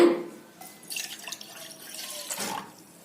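Water pours into half a tumbler of milk in a pan while making coffee, a soft trickling and splashing stream with a couple of brief bursts, close and fairly quiet.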